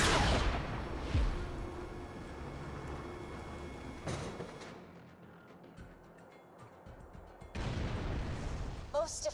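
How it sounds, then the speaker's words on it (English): A cannon fires in Borderlands 2, with a few heavy booming blasts spaced several seconds apart, the loudest at the start and end, while game characters talk. "Please fire the cannon again."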